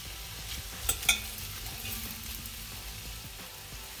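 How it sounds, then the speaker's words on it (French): Onions and fennel sautéing in a cast-iron pot for an oriental-style veal tendron stew, a steady low sizzle with a couple of sharp utensil clicks near the start, no voices. "faire revenir dans le faitout les oignons ainsi que le fenouil"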